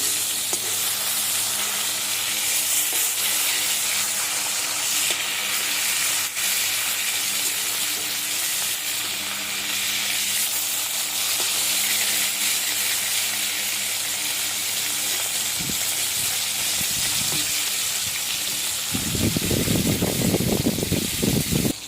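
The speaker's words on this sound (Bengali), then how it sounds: "আমার মাছটা উল্টে পাল্টে ভেজে নেব।" Tilapia fish frying in hot oil, a steady close hiss and crackle that runs throughout, swelling louder near the end as the pieces are turned.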